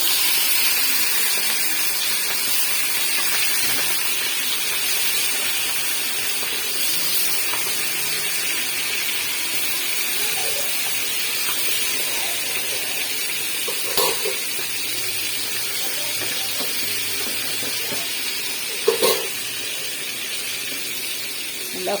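Chicken 65 deep-frying in hot oil in a kadai, a steady broad sizzling hiss that runs unbroken throughout, with a couple of brief louder pops near the end.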